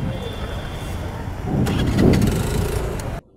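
A motorbike engine starts during a road trip from Gujarat toward Ajmer, a steady rumble swelling as the engine catches, then cutting off abruptly, with people talking nearby.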